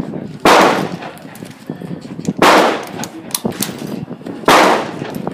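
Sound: gunshots from a Yugoslavian SKS M59/66 rifle

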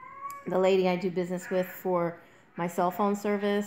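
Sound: cat in heat meowing

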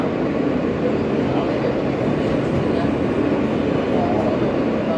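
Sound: Alstom R160A E subway train riding

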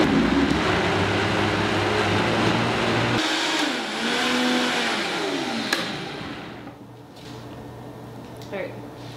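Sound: Vitamix blender blending fennel and mint

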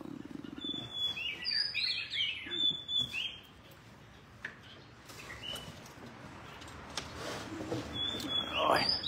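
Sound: birds chirping at a bird contest

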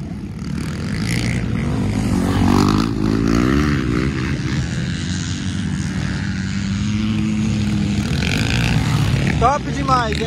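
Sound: MX3 motocross motorcycles racing in mud

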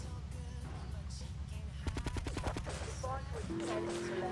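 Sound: gunfire from police in video game Grand Theft Auto Trilogy

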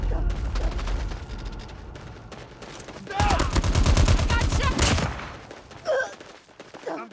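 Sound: gunfire in the video game Call of Duty: Mobile

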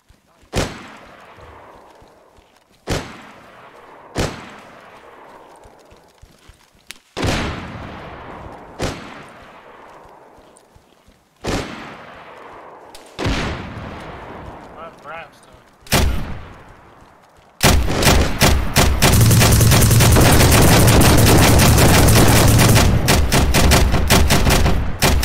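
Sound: gunfire in the video game DayZ

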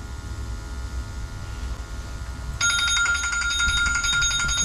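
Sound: timer alarm during gas boiler combustion test

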